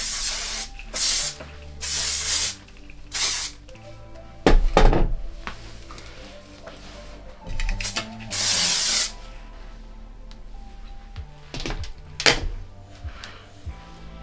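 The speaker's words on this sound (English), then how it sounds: "I'm going to spray some hairspray" Repeated short hissing bursts of hairspray, some quick and some longer, with soft handling thumps and rustles in between.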